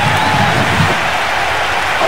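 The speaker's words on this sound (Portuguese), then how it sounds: "E aplaudido pela torcida." Stadium crowd applauding in the PS2 football game Winning Eleven 10, a friendly match between Náutico and Alianza Lima; a steady, dense wash of clapping and cheering fills the whole moment without a break.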